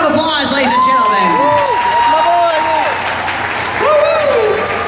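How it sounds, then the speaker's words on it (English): An audience at a comic con costume contest applauds in a steady, loud wash of clapping and cheering with whoops, while voices shout over it. "Give a round of applause, ladies and gentlemen."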